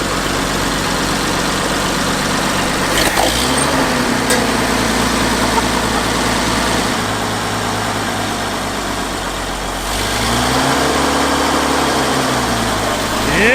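Old abandoned Oliver tractor engine running after revival, a loud low heavy idle with a steady thumping pulse, dipping and swelling as the throttle changes, close by and without talk.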